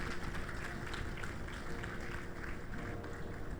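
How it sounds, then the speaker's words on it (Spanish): Congregation applause during a church service: a faint, continuous wash of many hands clapping, heard from a distance and even in level throughout. "Dale ese aplauso más fuerte al Señor."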